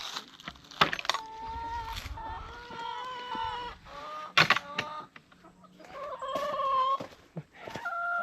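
Backyard hens in a chicken area clucking and making drawn-out tonal calls close by, with several separate sharp bursts and pauses between them, and no talking over the birds.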